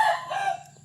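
A young rooster of about seven to eight months, kept for cockfighting, gives a single close crow that falls in pitch and fades out, with no voices.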